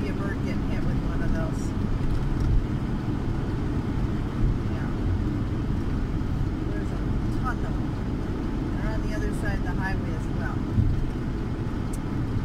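Continuous low road rumble of a VW Winnebago Rialta RV driving near Palm Springs, steady engine and tire noise with a few faint chirps above it.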